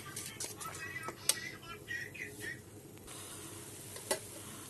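Spiced oil frying for a rui fish dish, a quiet, close sizzle with intermittent scraping and clinking of a stirring spoon against the pan.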